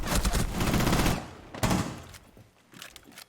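Rapid gunfire in Rainbow Six Siege, a dense, loud burst of shots for about a second, then a single sharp report followed by fainter trailing shots and game noise.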